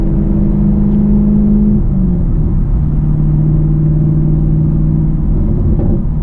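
A 2020 Chevrolet Camaro SS 1LE engine drones steadily under hard driving, a loud, close, continuous rumble that dips in pitch partway through and then holds, with no talking.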